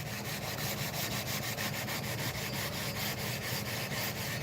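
Sanding a guitar fretboard during planing: steady, rhythmic back-and-forth strokes, close and continuous, with no voices.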